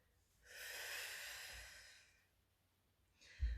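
Deep, drawn-out breath during a Pilates exercise: one long airy breath swells and fades over about two seconds, and a short faint breath follows near the end, quiet and close with no talking.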